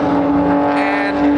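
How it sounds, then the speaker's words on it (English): A BMW with a burble tune driving at a raceway at altitude, its engine droning loudly and steadily up close with a rising crackle near the end, no distinct separate bangs standing out. "There's a BMW with some pops and bangs with the burble tune."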